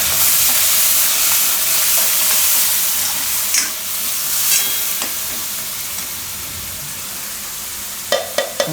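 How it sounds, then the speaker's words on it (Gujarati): Tomato puree hits hot oil and spices in a pan for a chana dal and soya chunk curry, raising a loud, steady frying sizzle and hiss. A few light clinks of the spoon stirring sound near the end. "અને મિક્સ કરી અને તરત જ આપણે એમાં નાખી દેવું ટમેટાની પ્યુરી."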